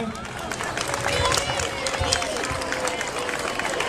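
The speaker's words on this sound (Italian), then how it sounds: "Fate un applauso di incoraggiamento, è la prima volta che ballano sul palco" An audience claps to encourage young dancers at a folk festival, a steady wash of applause and crowd murmur that stays even throughout, with voices mixed in.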